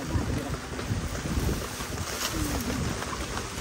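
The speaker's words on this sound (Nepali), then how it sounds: "हावा त देम साह्रो ए आमा" Strong winter wind gusting outdoors along a rural village path, a steady loud roar buffeting the microphone throughout, with a faint voice beneath it.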